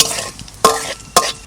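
Bay leaves and cumin seeds hit hot oil for a Bengali fig-and-prawn curry, giving two sharp bursts of sizzle, each flaring loud and then fading, separated by quieter crackle.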